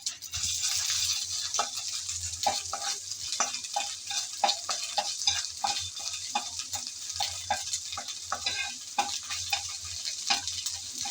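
Black cumin seeds with ginger, garlic and onion paste fry in hot oil, a moderate steady sizzle punctuated by frequent soft crackles and stirring taps, close and without talk.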